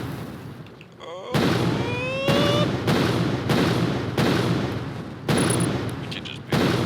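Video game gunfire, several loud, sharp shots spaced about a second apart, each ringing out with a decaying tail, plus a brief voice early on.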